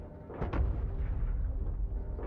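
An artillery salvo fires in the game Factorio: a couple of sharp launches kick off, then a heavy rolling rumble of booms carries on, loud and close.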